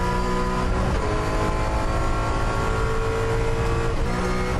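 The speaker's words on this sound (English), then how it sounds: "I feel like this sounds like an Australian V8 supercar" A rally car engine screams at high revs, a raspy V8-like roar that stays loud and constant with quick shifts and brief dips as the driver works the pedals.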